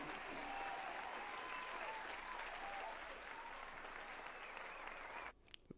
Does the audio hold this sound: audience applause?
yes